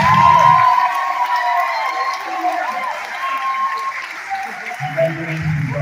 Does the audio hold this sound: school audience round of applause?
yes